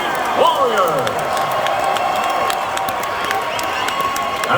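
Crowd at a lightweight fight event applauding and cheering after a five-round bout, a dense steady roar of clapping and shouts filling the venue throughout.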